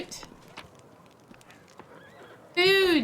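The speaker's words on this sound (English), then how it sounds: "there's a horse over here" Hooves clip-clop softly in a video game before a horse lets out a loud, close whinny near the end, with faint background game sounds.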